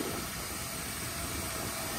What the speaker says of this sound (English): We're just letting the air out of the tyres now, so we can get set off.